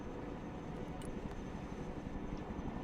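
A Chinook helicopter flying in the video game Broken Arrow, a steady, dense engine and rotor roar that holds at even loudness throughout.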